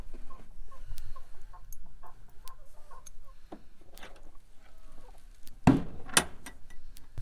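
A chicken clucks a couple of times near the end, short sharp calls over quiet background rustling and faint knocks.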